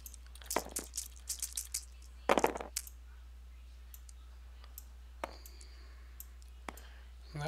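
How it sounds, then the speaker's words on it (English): Five defense dice rolled on a table in a Star Trek starship miniatures game: two quick bursts of clattering dice, followed by scattered faint clicks in a quiet room, with no talk. "rolling 5 defense dice"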